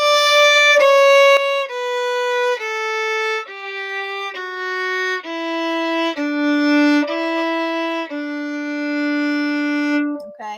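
Solo violin plays the French Folk Song from bar 17 to the end, a slow descending line of clear sustained bowed notes, one after another, close and alone.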